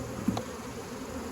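Honey bees hum steadily around a beehive during a nectar flow after heavy rain, a faint continuous buzz near the hive with one brief closer pass early on.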